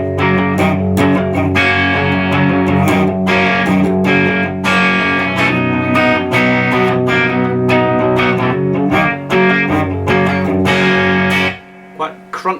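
A VOX AC30 reissue guitar amp run at one-third of a watt gives crunchy distortion, with loud, continuous strummed chords that ring on before cutting off near the end.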